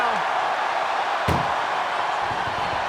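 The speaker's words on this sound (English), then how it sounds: "Trying to at least slam one door shut." Ambulance door slammed shut during a wrestling match in an arena, one sharp loud bang cutting through steady crowd noise, with commentary voices underneath.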